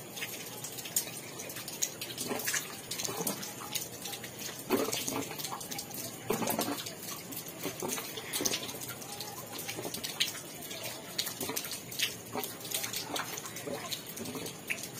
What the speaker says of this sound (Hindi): तो इधर खोल दिया, इधर देखती हूँ पानी आया कि नहीं आया।